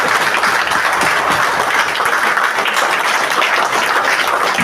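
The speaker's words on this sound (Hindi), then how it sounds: "मैं चाहूंगा कि ताली बजा करके इनका स्वागत करें।" An indoor audience claps continuously to welcome a guest at a flag-hoisting and lamp-lighting ceremony, a dense, even wash of applause that holds steady throughout.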